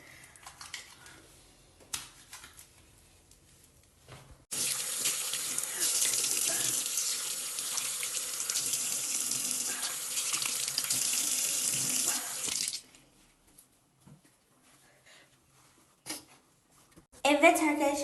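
A tap runs steadily for about eight seconds while a face is washed, a bright hissing water stream in the middle of the span. Quieter stretches with small handling noises and voices come before and after.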